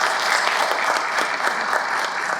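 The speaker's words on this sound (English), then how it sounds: "So a big round of applause for him." Audience applause at a film festival Q&A, a full, even patter of many hands clapping steadily throughout, fairly close and loud.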